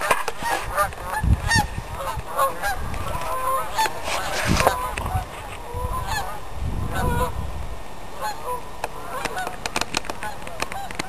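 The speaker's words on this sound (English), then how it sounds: "Oh my, I hear some geese coming." A flock of geese in flight honks repeatedly, a chorus of overlapping calls that swells and fades as they pass, with some rustling nearby.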